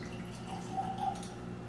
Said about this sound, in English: I'm going to pour this into the glass.